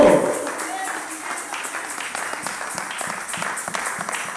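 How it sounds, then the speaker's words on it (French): A church congregation applauds, with a steady wash of many hands clapping that keeps going throughout, and voices can be heard under it. "Acclame le Seigneur. Acclame très fort."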